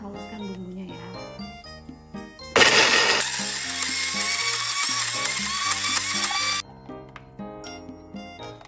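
A kitchen blender grinds spice paste for Indonesian sambal goreng ati kentang, a loud whirring burst lasting several seconds that starts and stops abruptly, with music playing before and after.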